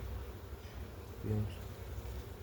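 Honeybees at an opened hive give a faint, steady buzzing hum that drones on throughout, with a slight swell midway.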